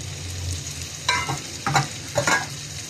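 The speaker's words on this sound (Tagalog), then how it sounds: "Ito ay ginisang munggo na may tanglad." Mung beans with lemongrass sauté in a pan, three bursts of scraping stirring over a soft continuous sizzle, close and fairly loud.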